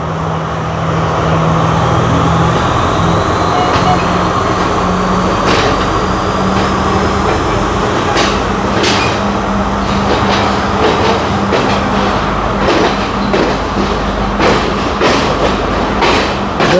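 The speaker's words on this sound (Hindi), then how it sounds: "ट्रेन जल्दी स्पीड पकड़ लेती है" A passenger train on a scenic route rolls steadily and gathers speed, a continuous loud rumble with wheel clatter and repeated sharp rail clicks growing more frequent over the stretch.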